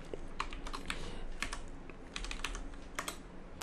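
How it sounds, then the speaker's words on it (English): Rapid bursts of clicking keys on a computer keyboard as a terminal command is typed, close and quiet, in uneven runs with brief pauses and no voices. "So you can just type make directory."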